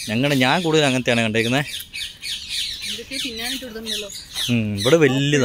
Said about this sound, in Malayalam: കിളികൾ കരയുന്നെങ്കിലും നിങ്ങൾക്ക് കേൾക്കാമല്ലോ,